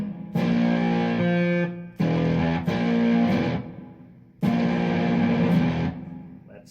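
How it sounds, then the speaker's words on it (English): Digital MIDI guitar played through a heavy distortion effect, three loud sustained strummed chords in turn with short gaps between, each ringing out before the next, no voices over them. "Now I've got more distortion."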